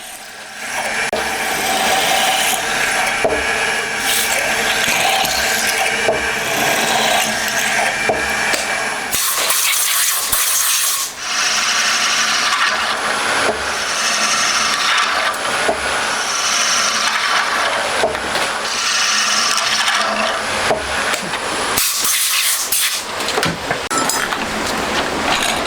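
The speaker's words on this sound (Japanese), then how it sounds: "4箇所にリニアシャフトのつく穴開けていきます。" A drill bores four holes for linear shafts in a metal part for a handmade 125cc four-cylinder, 16-valve engine, giving a steady, loud grinding and rasping that runs continuously with brief changes in pitch.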